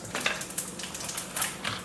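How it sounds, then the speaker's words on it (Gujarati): Cumin seeds sizzle in hot oil in a pan for tempering, giving soft crackling pops and hissing bursts, fairly quiet and brief. "હવે આપણે કરીશું જીરાનો વઘાર."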